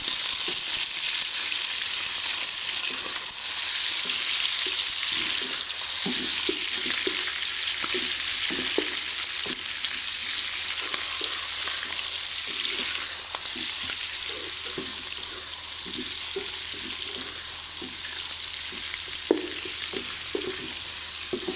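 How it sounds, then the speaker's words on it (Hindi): Chicken fries in ginger garlic paste with a continuous bright sizzle, close and steady throughout, with occasional soft stirring clatter underneath. "चिकन को हल्का सा फ्राई करेंगे"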